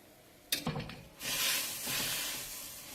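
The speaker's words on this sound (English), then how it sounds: "I'm deglazing the pan." Vegetables pushed through a hot pan to deglaze it for pepper steak: a sharp burst of scraping and sizzling, then a broad rushing hiss of liquid hitting the hot metal that swells and slowly settles, close and without talk.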